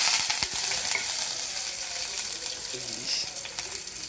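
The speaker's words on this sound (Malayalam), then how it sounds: "നമ്മൾ ലേശം കടുക് ഇട്ട് കൊടുക്കുകയാണ്" Mustard seeds crackle in hot oil at the start of a bean stir-fry, a close, continuous sizzle dotted with sharp little pops and spits, with a few light utensil taps.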